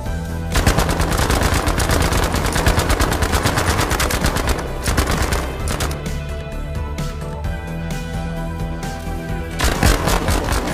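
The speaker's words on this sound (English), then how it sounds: "Here is a comparison of burst and automatic fire." Armoured car machine-gun fire from a BA-64 in a video game, loud and close, first in short repeated bursts and then in a sustained automatic stream, with dense rapid reports throughout.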